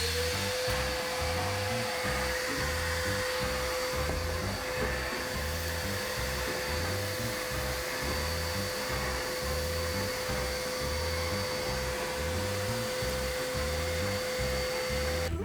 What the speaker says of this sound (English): I'll just run the big vacuum through this